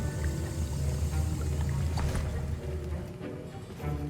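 Potion being stirred in a cauldron in Hogwarts Legacy, heard as a steady, continuous sloshing liquid swirl over a low ambient music bed, fairly even throughout with no talking.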